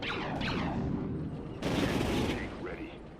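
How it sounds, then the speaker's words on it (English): Heavy artillery tank cannon fire in a Star Wars strategy game, with booming blasts and a rolling barrage that swells loudly midway and then fades. "Our heavy artillery is out now and doing its thing."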